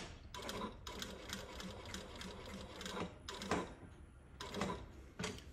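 A sewing machine stitches down a topstitched shirt placket in steady runs of rapid needle ticking, with short pauses between them. The machine is close and clear, and no one speaks.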